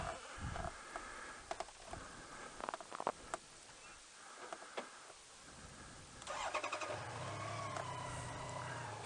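A BMW K1200LT motorcycle engine cranks in a few sharp, uneven bursts, then catches and settles into a steady, close running idle that lasts to the end.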